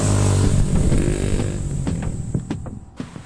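A Suzuki V-Strom 650 XT with a 645cc 90-degree liquid-cooled V-twin rumbles steadily while being ridden, a low continuous engine drone with slight rises in revs and some wind noise.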